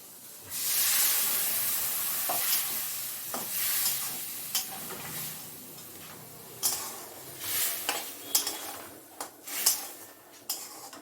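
Ground poppy seed rinse water poured into a spice paste frying in a pan brings a broad, steady sizzle and hiss, with stirring scrapes and soft clinks rising through the second half.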